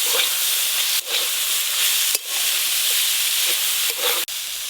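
Red amaranth greens stir-frying in a pan with garlic, chilli and onion, a steady loud sizzle and hiss broken by a few brief stirring pauses.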